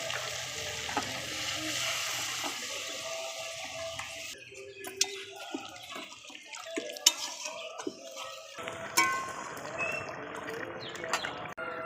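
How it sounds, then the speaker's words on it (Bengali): Yogurt chicken curry is stirred in a sizzling pan, with soft steady frying and intermittent scraping knocks of the spoon against the pan, close and fairly quiet. "মাংসটা একটু নেড়ে নেব।"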